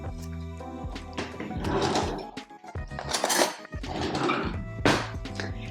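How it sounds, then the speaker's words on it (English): Metal spoon and utensils clink and clatter against dishes in a home kitchen while making a slow-cooked tomato sauce, a run of close, bright knocks and rattles with no talking. "Let me grab a spoon."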